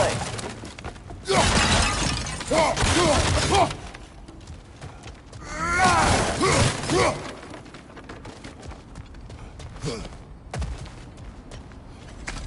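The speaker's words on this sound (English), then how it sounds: "back to smashing through things for fun and profit" Breakable objects shatter in God of War Ragnarok, with several loud bursts of crashing, splintering debris separated by quieter pauses and scattered smaller cracks.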